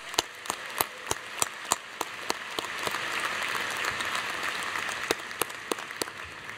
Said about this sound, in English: Let's have one more round of applause for these excellent graduate students.